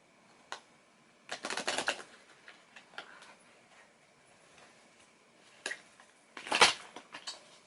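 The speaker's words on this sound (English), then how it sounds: "Oh, so many cards falling out." Tarot cards slipping out of a deck and landing on a table: a few crisp papery flutters and slaps, with a larger burst near the start and another toward the end, separated by quiet ticks.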